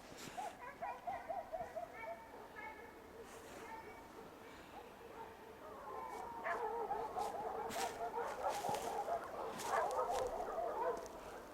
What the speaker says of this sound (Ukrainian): собаки забрехали